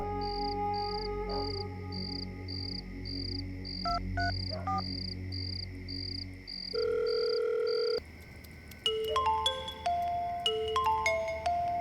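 A telephone ringing tone pulses in a steady repeating pattern of short beeps over a low background hum, then changes to a steady tone and scattered electronic blips, with no one speaking.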